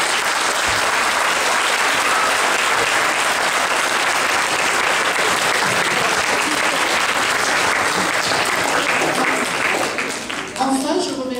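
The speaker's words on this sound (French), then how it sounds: "je crois que vous pouvez les applaudir" Loud, dense audience applause at the opening ceremony of the Japan Aurea 2016 fair, thanking the organising teams. It fills about ten seconds and then thins out near the end.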